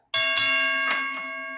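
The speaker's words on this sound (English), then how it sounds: "Let's hit the Ali Bell for the super chat for my brother D-Town Blaster." A bell sound effect rings for a live-stream super chat: two quick bright strikes close together, then a long sustained ringing tone with two fainter follow-up hits, loud and alone.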